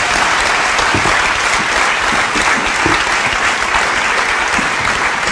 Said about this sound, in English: please give them a great big round of applause for that wonderful context